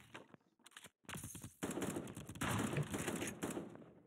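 Video game gunfire from an assault rifle and a shotgun in a 1v1 League of Legends match, bursts of rapid popping shots in uneven clusters with short gaps, moderately loud.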